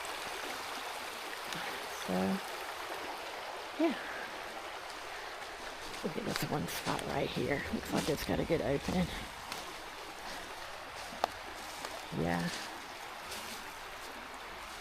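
A pretty little river beside a campground, running after a night of rain, makes a steady broadband rush in the background while someone talks over it.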